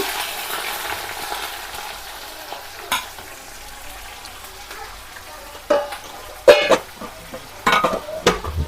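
Onions and green chillies fry in a pan with mustard seeds and cumin for a beetroot fry, a soft steady sizzle broken by a few sharper clatters and stirring bursts near the end.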